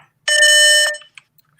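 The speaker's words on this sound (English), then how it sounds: "The intercom chimes." A single bright electronic intercom chime rings out clearly for about half a second in an otherwise quiet space, then fades quickly.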